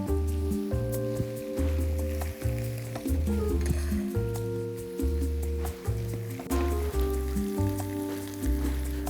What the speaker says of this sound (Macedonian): ќе го ставиме и зеленчукот и ќе оставиме убаво да се испрши.